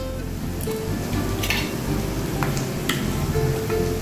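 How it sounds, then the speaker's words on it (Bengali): Ginger paste frying in a pan for a Tehari biryani, a steady close sizzle with small crackles and ticks throughout, no voices. "যাতে কাঁচা গন্ধ না থাকে সেরকমভাবে আবার এগুলোকে ভেজে নেব"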